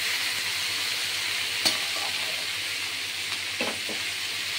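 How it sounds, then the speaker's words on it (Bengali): Malabar spinach (pui shak) fries in a pan with turmeric and salt, giving a steady, loud sizzle throughout, with a few soft stirring scrapes and clicks near the end. "এটা এখন ভাজা ভাজা হবে"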